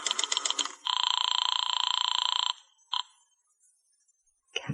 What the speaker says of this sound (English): I went over to the phone and called Madame Natasha's Temple of the Zodiac